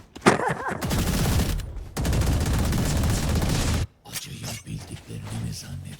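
Ares machine gun in Valorant firing in long sustained bursts, loud and close, with a short break and then quieter game noise and chatter after.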